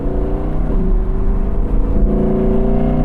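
An Audi R8 Spyder's 5.2-litre V10 pulls under load, a loud, close, deep guttural drone with strong harmonic growl that shifts pitch slightly as it works, continuous and without speech.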